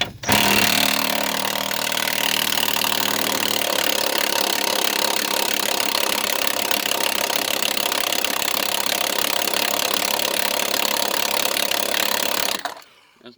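Loud, steady power tool, likely an impact wrench, runs continuously for about twelve seconds on rusty cab bolts of a 2001 Ford Ranger donor truck, then cuts off abruptly.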